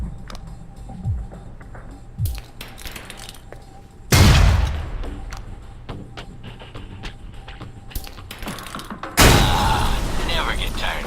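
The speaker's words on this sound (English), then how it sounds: "Try and chuck one beneath the truck and take out the gas tank." Grenade blasts in a video game blow up a truck's gas tank, with two heavy booming explosions followed by long crackling, debris-filled roars. Smaller thuds and mechanical clicks come before them.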